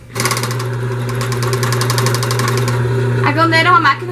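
A galoneira coverstitch sewing machine runs fast and steady through knit fabric for a shirt, a continuous whirring drone that ends in a brief shifting burst, with a voice speaking over it.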